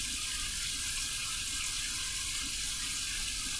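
Warm tap water runs steadily from a faucet into a sink while lathering for a shave, a continuous close splashing hiss with no talking.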